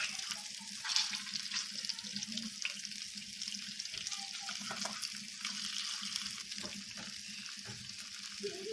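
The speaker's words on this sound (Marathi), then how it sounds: "चला आता पलटी करून घेऊया. मस्त तळायची." Kothimbir wadi fries in hot oil after being flipped, a soft continuous sizzle with light crackles, fairly quiet and steady.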